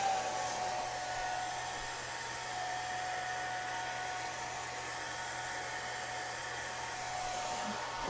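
Heat gun blowing hot air over wet paint on a stencil, a steady airy whir held continuously at moderate level with no talking.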